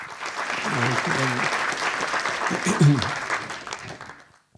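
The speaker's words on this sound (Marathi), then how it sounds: "प्रथम आपण टाळ्यांचा गजर केला पाहिजे" Audience applause fills a hall at a Marathi literary-trust event, a dense, steady clatter of many hands that runs for about four seconds before stopping abruptly, with some voices faintly mixed in.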